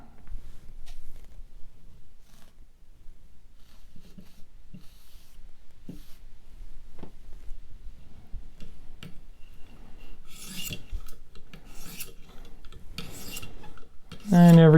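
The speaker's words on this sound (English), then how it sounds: "I never get tired of that feel and smooth sound of the 1200 stone on an edge" A Hinderer Firetac knife edge is drawn across a 1200 grit sharpening stone, giving soft, smooth rasping strokes in an irregular rhythm, close and fairly quiet, with a few louder scrapes toward the end.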